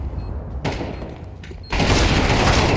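Gunfire in Counter-Strike 2 during a competitive esports match, a dense burst of shots that jumps louder partway through and stays loud to the end.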